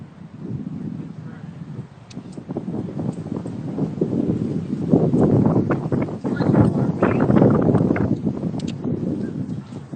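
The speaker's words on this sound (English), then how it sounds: "It's windy" Gusty wind roars and rumbles across an outdoor microphone during a taekwondo-inspired workout session, a steady low buffeting that swells and fades throughout, with people talking over it.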